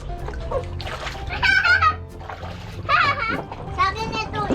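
A young girl splashes in water filling the bed of a pickup truck, with sloshing and splattering under a steady stream of voices, including a child's, talking throughout.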